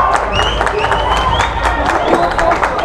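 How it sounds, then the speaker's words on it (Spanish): Broad wash of stadium crowd noise at a football match after a penalty, with applause and cheering, whistles rising above it, loud and continuous. "Escuche el aplauso de los estados."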